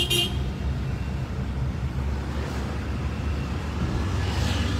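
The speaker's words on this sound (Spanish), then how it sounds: "¿Quién nos viene tocando la bocina?" Street traffic in Chepén, Peru, with a short car horn toot right at the start over a steady low rumble of passing vehicles and engines.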